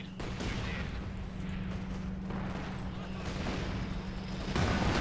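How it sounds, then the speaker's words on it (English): Artillery booms and gunfire rumble on without a break in a strategy video game battle, a dense, distant-sounding barrage under a low hum. "So this is where the first bit of artillery comes in"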